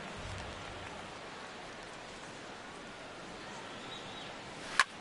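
Steady rain pours down during a rainy baseball game in MLB The Show 17, a dense, even hiss holding at moderate level throughout, with a sharp brief crack near the end.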